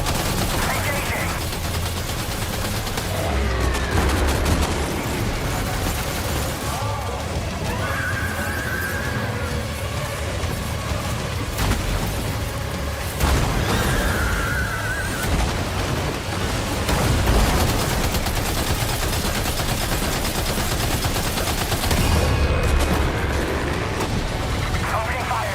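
Gunfire in the video game Death Stranding 2, bursts and rapid volleys recurring loudly through a continuous dense mix of game effects, with a voice speaking over parts of it.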